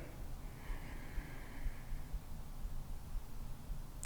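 A single long, deep breath drawn in slowly through the nose during a kundalini yoga breathing exercise, faint and airy against quiet room tone, with no speech.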